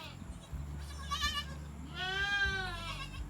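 Newborn goat kids in a kidding pen give several bleats, one short cry and then a longer wavering call, heard fairly close over a low background hum.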